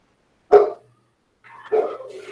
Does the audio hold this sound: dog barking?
yes